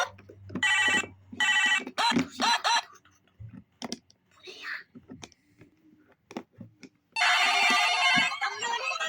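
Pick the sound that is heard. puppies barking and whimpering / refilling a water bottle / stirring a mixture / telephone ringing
telephone ringing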